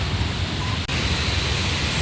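Heavy rain pours steadily onto a road, a dense, even hiss of falling water that stays loud and unbroken apart from one brief dropout.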